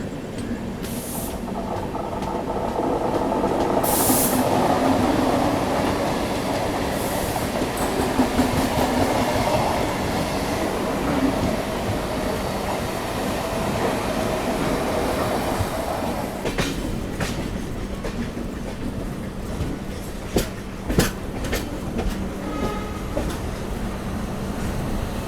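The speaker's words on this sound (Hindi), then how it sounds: "अभी देखो CSMT रेलवे स्टेशन अपनी ट्रेन पहुंच रही है" The Konkan Kanya Express rolling into CSMT station in Mumbai, a loud sustained rumble and clatter of carriages heard from on board, slowing into sharper clanks and wheel knocks toward the end.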